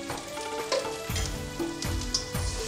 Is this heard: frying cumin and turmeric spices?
yes